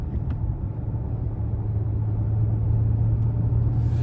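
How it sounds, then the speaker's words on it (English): A 2025 Hyundai Palisade Calligraphy Night Edition AWD with a V6 engine cruising on the road, a steady low cabin rumble of engine and tires building slightly in level, with no talking. "the V6 is relatively strong even in the normal drive mode"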